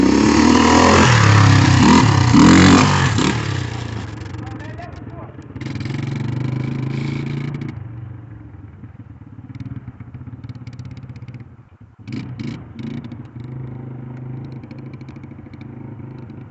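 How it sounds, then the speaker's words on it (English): A dirt bike engine revs loudly nearby, then drops back and rises again in bursts with clattering and thumps, while people talk over it. "on his dirt bike."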